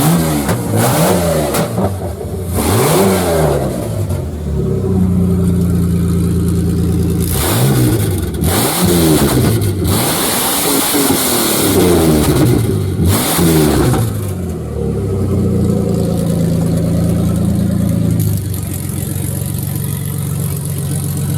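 A burnout car's engine with exhaust running straight out the extractors revs hard in repeated loud bursts, rising and falling between rough idle stretches, close and very loud.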